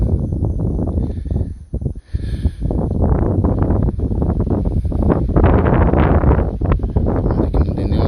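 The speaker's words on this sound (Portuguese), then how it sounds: "De vento forte direto," Strong wind roars around a DJI Mavic Mini drone, a loud, continuous buffeting rush with brief dips and gusts that lasts the whole stretch with no other sound standing out.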